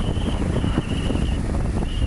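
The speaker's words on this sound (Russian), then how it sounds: "А учитывая, что ветер сегодня сильный, молотит он быстро." Strong wind buffets the microphone in a steady, loud broadband roar that rises and falls in gusts, with no voices.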